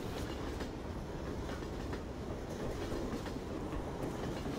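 Train rolling in the Left 4 Dead 2 video game: a steady, loud rumble and clatter of railcars with faint rhythmic clickety-clack, continuous and close, no voices.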